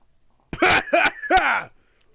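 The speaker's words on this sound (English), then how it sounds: "I'm just clearing my throat." Three rough, throaty bursts of a person clearing their throat, loud and close, each a short harsh rasp.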